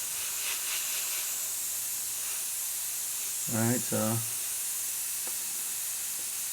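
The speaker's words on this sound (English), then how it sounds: "I'm gonna go ahead and just start spraying the white over it." Steady broadband hiss of a Badger airbrush spraying white Stynylrez primer, continuous and even throughout, with a brief stretch of talk over it midway.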